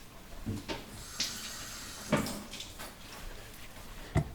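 Half a peeled cucumber is rinsed under a kitchen tap; faint, quiet splashes come in short, irregular bursts rather than one continuous stream.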